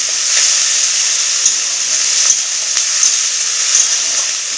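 Ginger paste hits hot oil in a home kitchen pan, a bright continuous sizzle with a steady hiss and a few small pops and crackles throughout, close and fairly loud, no talking.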